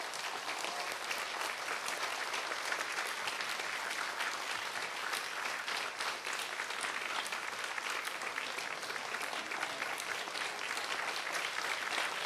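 Steady, dense applause from a church congregation during an award plaque ceremony, a sustained wash of many hands clapping at a moderate distance with no talk over it.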